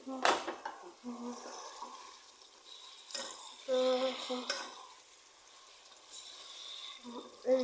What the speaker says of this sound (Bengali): এই চিংড়ি মাছটা দিয়ে দিছি, এটা দিয়ে একটু কষবে।